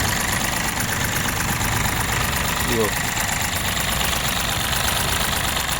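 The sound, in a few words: Mahindra vehicle diesel engine idling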